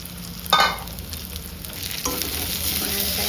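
Fried snails and potatoes are tipped into a hot pan with a sudden burst of sizzling, settling into a steady close frying crackle that swells again as stirring continues.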